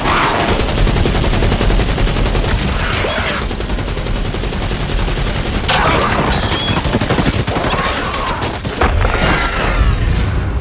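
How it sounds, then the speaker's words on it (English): Machine gun turret fire in a movie battle scene, a loud, dense barrage of rapid gunshots with booming impacts running continuously throughout. "activated the machine gun turret on the opposite side and unleashed a barrage of fire toward the western cliff"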